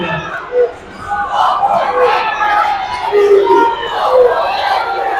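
Crowd noise in a basketball gym during a regional high school game, a loud, sustained roar of cheering and shouting voices close around, swelling and holding throughout.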